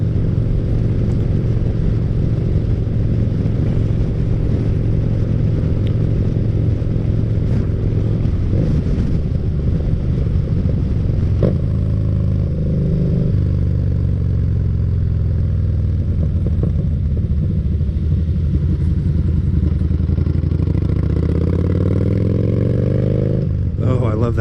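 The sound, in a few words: motorcycle engine revving while riding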